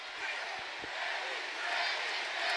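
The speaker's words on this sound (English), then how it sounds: "The crowd chant Deji." A boxing arena crowd at a Jake Paul versus Deji fight roars and chants a fighter's name, a dense, steady wall of voices that swells slightly toward the end.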